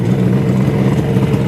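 A 1975 Kawasaki 500 H1 two-stroke motorcycle engine idles steadily without the choke, a loud, continuous close-up rumble with an even, slightly uneven-firing pulse throughout.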